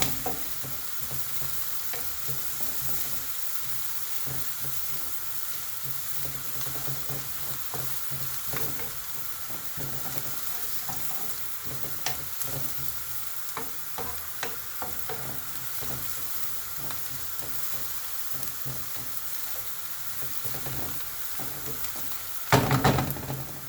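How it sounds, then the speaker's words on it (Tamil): Chickpea masala ingredients sauté and sizzle in a pan for chana masala with coconut, a steady frying hiss broken by frequent stirring scrapes and clinks, with a louder clatter near the end; no voices. "இன்னும் கொஞ்சம் சாட் ஆகிடட்டும்"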